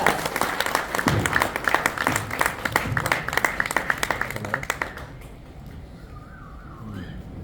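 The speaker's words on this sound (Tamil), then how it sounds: "ஒரு பெரிய கைத்தட்டலோட" An audience applauds at a film first look launch event, loud dense clapping for about five seconds that then stops abruptly, leaving quiet room tone with a faint tone.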